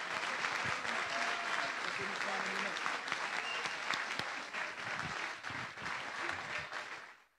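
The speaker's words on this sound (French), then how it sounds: "si je pouvais vous demander de pouvoir applaudir Richard et les 180 bénévoles" An audience applauds race volunteers at the Urban Trail Chaumont event, a long, even stretch of many hands clapping at moderate volume with faint voices underneath, fading out at the end.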